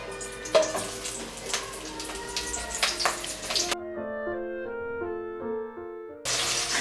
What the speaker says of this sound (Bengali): চিকেন দো পেঁয়াজা বানানোর জন্য আমি প্রথমে পেঁয়াজের যে পেটালসগুলো সেগুলোকে